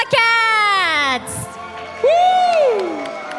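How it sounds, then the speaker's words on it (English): Esports team members at the Valhalla World Cup 2024 offline grand finals cheer in loud, close whoops and shouts, two sharp rising-and-falling bursts with a short pause between them. "we can see all the team members cheering for them"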